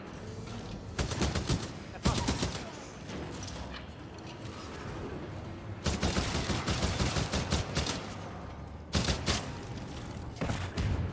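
Loud bursts of automatic gunfire ring out in the video game Titanfall 2, several rapid volleys separated by short pauses, with a rumbling battle background.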